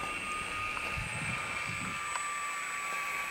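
A steady high-pitched engine whine drones continuously, with faint wind and low rumbling beneath, sounding like a small model plane buzzing at a moderate distance.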